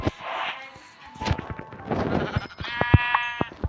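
Sheep bleat in short wavering cries, mixed with sharp thumps and hits from game action, moderately loud with no talking.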